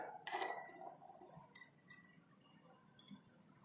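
A metal spatula clinks against a glass test tube held in a holder while green ferrous sulfate crystals are added in a school lab, giving a few light, faint taps spread over a quiet background.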